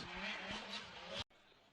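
Formula Drift car spinning out during a battle run at the Wall, New Jersey: broad loud engine roar and tyre noise that cuts off abruptly, then quieter background.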